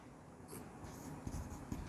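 Numbers being handwritten in the Indian numbering system, a pen or pencil scratching and tapping in short irregular strokes against the page, close and soft over a faint room hiss.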